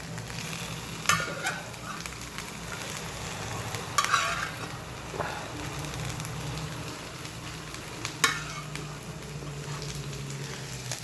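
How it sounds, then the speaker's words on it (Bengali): Dried fish fries with bitter gourd and potato in a pan, a steady sizzle under occasional scraping clatters as the mixture is stirred, close and alone. "শুটকি দিয়ে একটু নাড়াচাড়া করে দিলাম।"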